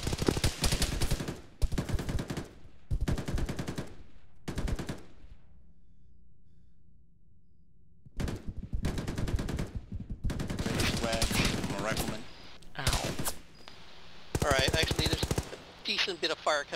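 Gunfire comes from a building in a military video game: long, loud bursts of automatic fire repeat close by in heavy clusters, with a quiet pause in the middle before the shooting resumes.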